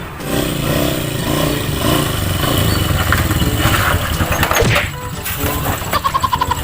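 A motorcycle engine runs close and steady, a dense rumbling drone with a slight rise and a short surge near the end, set in a comedy scene about a stressed motorcycle-taxi driver.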